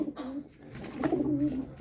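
Soft, throaty pigeon cooing, a couple of low rolling calls close by over faint background noise.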